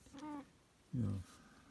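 A mother cat meows twice near the microphone, a short mid-pitched call followed after a pause by a louder, lower, drawn-out meow, with faint room noise between.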